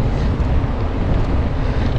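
Loud, continuous headwind buffeting a microphone during a mountain bike ride through fields, a dense low roar with no gaps for the whole stretch.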